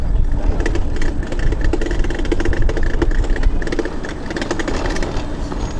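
A broken motorbike with a faulty stand, on a food street in China, runs with a loud, continuous rattling clatter and uneven mechanical ticking.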